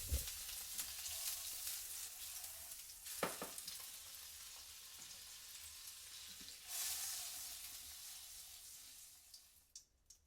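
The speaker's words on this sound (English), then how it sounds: "get a frying pan heated up, add in a good knob of butter" Butter sizzles steadily in a hot pan, a continuous crackling hiss that surges louder partway through, with a few light clinks and no voices.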